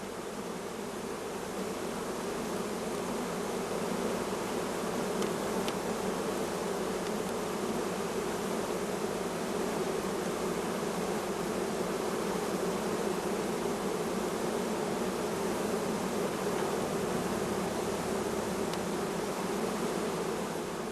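Honey bees swarm around brood frames being moved from a hive into a nucleus box, a dense, steady buzzing hum that holds close and even throughout with no voices.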